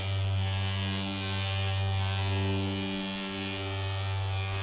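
A Mirka polisher with a very soft pad and finishing compound running at top speed: a loud, steady electric hum and buzz close by that holds an even pitch throughout.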